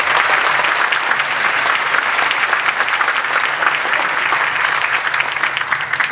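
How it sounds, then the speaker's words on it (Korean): Enthusiastic audience applause opening a youth policy talk concert with Seoul mayor Park Won-soon in 2017, a loud, sustained roar of many clapping hands that holds steady and eases slightly near the end. "여러분의 힘찬 박수로 시작하겠습니다"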